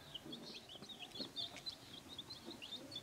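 A brood of thirteen one-week-old jungle fowl chicks peep and chirp softly and repeatedly nearby, a faint busy chorus of high calls.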